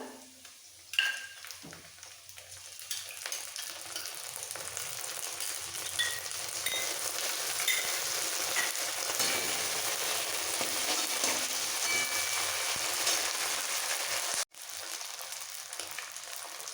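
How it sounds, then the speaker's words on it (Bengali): Sliced onion fries with shredded cabbage in a pan for a rui fish-head cabbage ghonto, a steady, even sizzle with occasional stirring, continuing for a long stretch with a brief break near the end. "এরকমভাবে পেঁয়াজটা একটু ভেজে নিতে হবে বাঁধাকপির সাথে"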